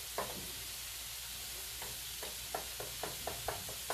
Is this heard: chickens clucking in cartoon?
no